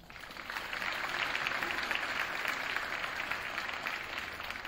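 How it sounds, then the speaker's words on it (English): Audience at a high school winter sports awards ceremony breaks into steady applause, a broad wash of clapping that swells quickly and holds at moderate distance before slowly tapering. "You all can applaud as the names get called."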